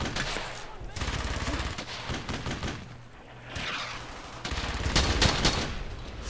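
Sustained machine gun bursts rattle loud and close in the World War II shooter Brothers in Arms: Hell's Highway, with rapid overlapping gunfire, brief lulls, and a heavier fusillade near the end.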